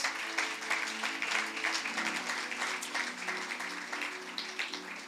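A church congregation applauds during a sermon, a soft, even wash of clapping that stays steady for several seconds, with faint voices mixed in.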